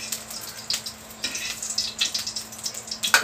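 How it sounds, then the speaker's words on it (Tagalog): Beef frying in a pan for Filipino bistek, hissing and sizzling with repeated sharp pops of splattering oil, loud and close with no voices. "ipa-fry na muna yung beef. In fairness, matalamsik."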